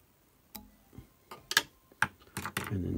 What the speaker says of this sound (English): And then you just snip.